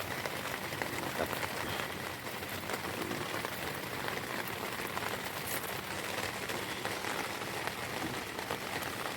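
Steady heavy rain patters on a camping tent pitched at the beach, a dense continuous hiss of drops on fabric throughout, with no talking.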